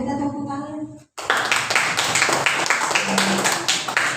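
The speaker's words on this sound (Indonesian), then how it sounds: "Ya, kita tepuk tangan." Students clapping together in a classroom after a group presentation, a dense burst of close handclaps starting abruptly after a short pause and continuing steadily.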